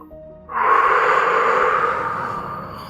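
During a guided breathing exercise in a hypnotherapy session, one long, steady exhale sounds close and loud after a moment of quiet, then slowly fades away.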